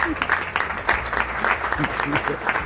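A church congregation applauds in praise, with dense, steady clapping at close range and voices mixed in throughout.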